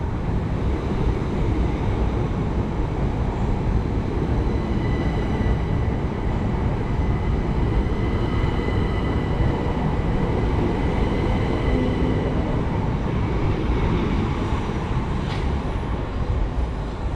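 A Class 377 electric multiple unit passes close by on the West Coastway line in West Sussex. A steady, loud rumble of wheels and motors runs without a break for about seventeen seconds, with a faint high whine above it and no talk.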